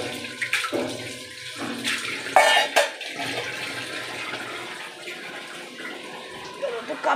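A tiffin box rinsed under a running kitchen tap: splashing, gushing water with clattering bursts as the box is handled, loud at first and then settling into a steadier trickle, with a voice speaking over it.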